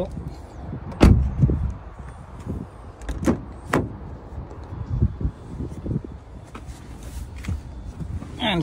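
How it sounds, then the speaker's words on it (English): A 2022 Cupra Born electric car door swings shut with one solid, close thump near the start, followed by a few lighter knocks and clicks over a quiet background. "close the door"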